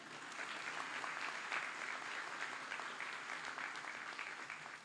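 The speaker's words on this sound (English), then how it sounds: "please don't hold the applause" Applause from a commencement ceremony audience greeting an honoree, a steady, dense patter of many hands that stays fairly distant and even throughout, with no voices over it.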